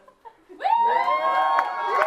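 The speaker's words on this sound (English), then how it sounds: "Cheer the loudest and proudest for who you think won." A crowd at a campus sports event shouts and cheers loudly after a couple of faint calls, the whooping swelling quickly and holding steady to the end.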